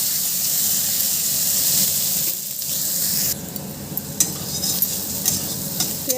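Paneer curry with potatoes and peas cooking in a pan with a little oil, giving a steady close sizzle and stirring scrapes that turn softer and more uneven partway through, with no voices.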